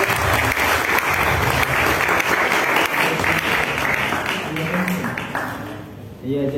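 An audience applauding for a painter at an arts evening, a dense, loud, sustained wash of many hands clapping that tapers slightly before voices come in at the end.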